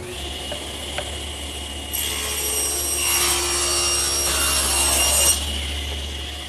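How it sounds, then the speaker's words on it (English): A stationary saw hums steadily, then rips through a solid wood panel for blanket chest panels in one loud, rasping cut lasting about three seconds before dropping back to its running hum. "And to cut them, I'll just use my stationary saw."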